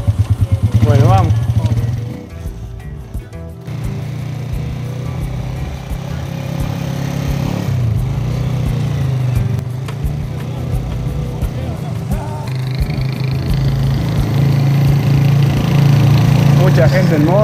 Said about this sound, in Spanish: Mucha gente en moto